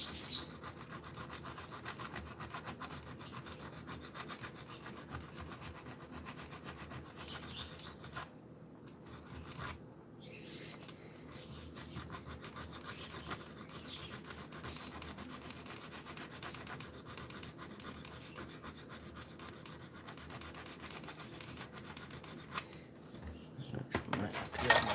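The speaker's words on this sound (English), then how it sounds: "I guess you could say it's a little heavy sanding" Heavy sanding on a thick resin body with a sponge, a steady close rubbing scrape that runs continuously with brief dips, then grows louder near the end.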